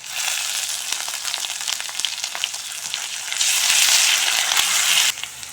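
Ginger-garlic paste sizzling in hot oil with ground onion paste in a pan for a rohu fish kalia curry: a steady, close, bright frying hiss that grows noticeably louder toward the end, then eases, with no talk.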